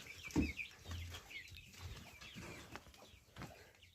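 Bantam chickens and chicks cluck and chatter softly nearby, with small peeping calls mixed in, against quiet outdoor background noise.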